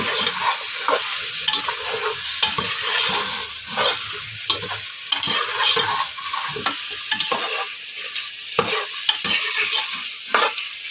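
Ready-made masala and spices being fried and stirred for beef haleem, a loud close sizzle broken by rhythmic scraping strokes of a spoon across the pan.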